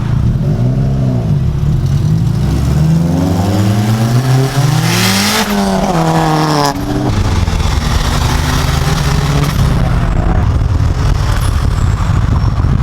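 A boosted Honda Civic EG revs hard and accelerates, the engine note climbing through the gears, loud and close and continuous throughout, no voices.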